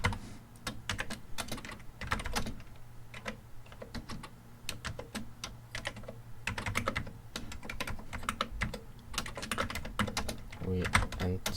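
Rapid clicking keystrokes on a computer keyboard while setting up an Amiga emulation machine, coming in bursts with brief pauses, close and crisp, and a voice speaks faintly at times over the typing.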